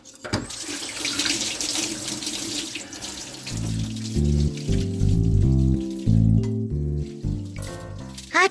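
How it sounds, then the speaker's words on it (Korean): Tap water runs and splashes into a sink for a few seconds while a drinking cup is washed, then stops, followed by soft clinks and handling noises amid background music. "마신컵은 바로바로 씻어주세요."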